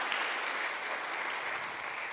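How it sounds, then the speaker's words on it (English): An awards audience applauds education finalists, a continuous wash of many hands clapping at moderate distance, even and sustained throughout. "How about another round of applause"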